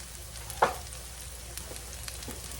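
Onions frying in a pan while green beans are prepared, a steady soft sizzle with one brief louder crackle and light stirring, fairly close and with no talking.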